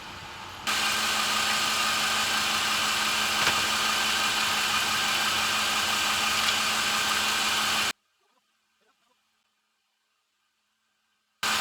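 A Lexus GX 460 engine idles steadily during a transmission fluid change, a close, even hum with vibration for about seven seconds before cutting to near silence, then returning briefly at the end.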